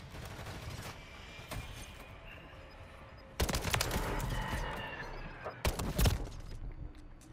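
Video game SMG gunfire comes in several bursts with sharp, dense clusters of shots, loudest in the middle and near the end, over a quieter background.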